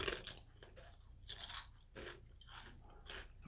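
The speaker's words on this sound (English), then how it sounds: "It has like a harder crunch to it." Crunchy Doritos Cool Ranch tortilla chips being bitten and chewed up close, a run of sharp brittle crunches every half second or so, with no talking.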